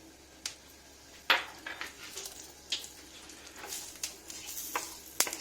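Mustard seeds and jeera splutter in hot oil in a pan, quiet irregular pops and crackles scattered over a faint sizzle, close by with no voices.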